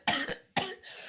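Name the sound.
cough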